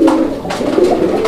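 A male black magpie pigeon cooing close by, one low throaty rolling coo that swells and dips over about a second, loud and clear with no talking.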